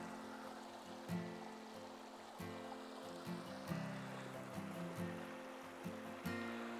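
A creek pours over a small concrete causeway at the Goomburra Valley campground, giving a faint, steady rush of water with soft splashes and no talk.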